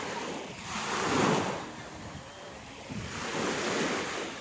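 Black Sea surf washing onto a crowded Odesa beach in two broad swells, with a steady breezy rush of wind behind the waves and no talking.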